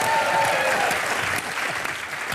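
Loud studio audience applause on a comedy show, a dense, steady roar of clapping that eases slightly partway through but carries on to the end.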